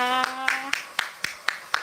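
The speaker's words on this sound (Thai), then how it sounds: "วันนี้นะขออนุญาตปรบมือรัวๆนะคะ" Rapid hand clapping at a welcome celebration, about seven sharp claps in an even rhythm of roughly four per second, with a short sustained voiced tone sounding over the first few claps.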